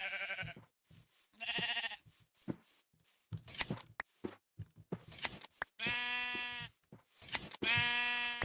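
Sheep in the Minecraft video game bleating in several distinct calls, two short ones early, then longer, louder bleats later, separated by quiet gaps with faint clicks and game sounds.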